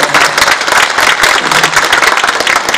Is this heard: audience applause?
yes